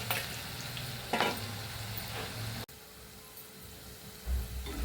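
Cabbage and moong dal pakoda frying in hot oil in a home kitchen, a steady sizzle with a few louder bursts of stirring and a brief clunk midway, no talking.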